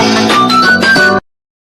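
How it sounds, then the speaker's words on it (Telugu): A mobile phone rings with an incoming call, playing a loud, close melodic ringtone with bright tonal notes for about a second before cutting off abruptly into silence. "ఏంటి ఫోన్ వస్తుంది?"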